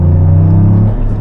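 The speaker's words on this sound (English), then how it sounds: "But then you drive the GR Yaris." A Toyota GR Yaris engine drones loud and close with a steady low rumble, easing off just before the end.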